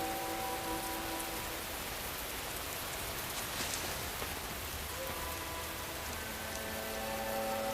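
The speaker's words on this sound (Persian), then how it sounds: "باران به فدان می‌بارد" Steady rain falls in a continuous broadband patter, moderately close and even throughout, with faint tonal hum lines beneath the wash of drops and no voices.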